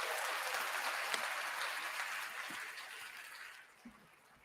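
A burst of hand claps and applause runs steadily, then thins and fades out near the end, fairly quiet overall with a couple of stray knocks at the tail.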